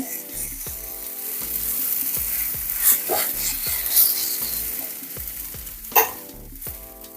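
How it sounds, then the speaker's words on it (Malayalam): Grated coconut roasting in a hot pan crackles with a continuous dry sizzle, broken by regular scraping strokes of a spoon stirring it and a couple of sharper clacks against the pan. "തേങ്ങയൊക്കെ നല്ലോണം ചൂടായി വന്നിട്ടുണ്ട്"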